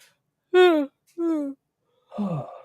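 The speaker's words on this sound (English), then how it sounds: "Big yawn" A long drawn-out yawn with a rising then falling voiced tone in two stretches, followed by a breathy exhale, close and fairly loud.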